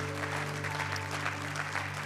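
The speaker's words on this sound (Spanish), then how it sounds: "dale un aplauso fuerte" A church congregation applauds in a soft, continuous patter over a steady low electronic hum, the clapping faint and distant throughout.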